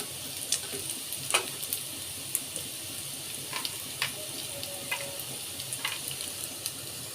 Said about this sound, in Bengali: এখন আমি কেটে রাখা পেঁয়াজগুলো দিয়ে দেব।